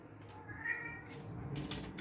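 A short cat meow, fairly faint, with light background noise around it.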